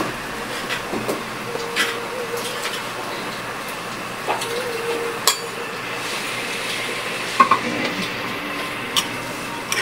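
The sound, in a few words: stirring string beans in coconut milk in a pan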